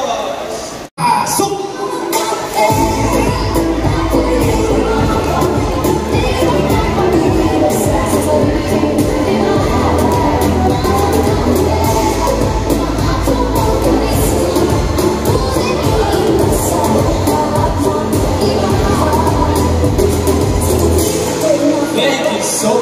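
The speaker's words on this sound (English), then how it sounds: "Let's give him a round of applause." Crowd at a Mr and Ms pageant final question round cheering and applauding loudly for a contestant, a sustained roar of shouting and clapping with a voice over the noise.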